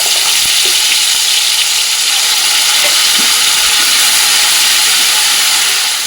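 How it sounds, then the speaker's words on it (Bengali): Tomato, ginger and garlic dropped into hot oil in a wok with cumin seeds and bay leaf, giving a loud, continuous sizzle and hiss with a few faint stirring scrapes, and no talking. "কড়াইয়ের মধ্যে যে তেলটা রয়েছে সেই তেলের মধ্যে দেবো গোটা জিরে আর তেজপাতা"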